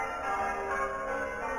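Church bells ring outdoors at night during a ghost-hunting investigation, a dense sustained metallic clang filling the air without any talking.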